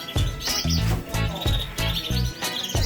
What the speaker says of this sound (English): A whole bunch of doves.